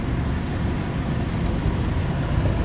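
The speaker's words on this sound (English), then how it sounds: "this valve stem's actually leaking" Steady, continuous hiss of air escaping from a leaking tyre valve stem on a black 2019 Mercedes A220, close and unbroken for the whole stretch with a low rumble underneath.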